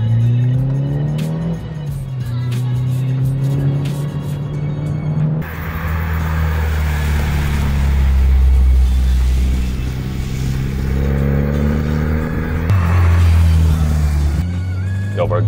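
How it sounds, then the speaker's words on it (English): A Mitsubishi Evo IX is driven in New Zealand, its engine droning loudly and steadily, revving up and easing back with gear changes throughout, while people talk over it inside the car. "Let's actually just go drive this Evo IX and see what we're talking."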